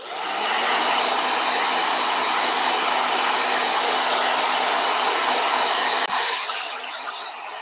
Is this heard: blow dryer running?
yes